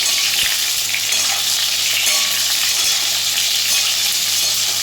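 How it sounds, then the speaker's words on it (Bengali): Ridge gourd sliced for a vegetarian moong posto dish hisses and crackles steadily while frying in a pan, with stirring scrapes now and then, close and loud with no talking. "ঝিঙেটা আমি এইভাবে নাড়াচাড়া করে"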